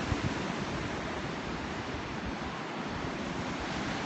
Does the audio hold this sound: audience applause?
no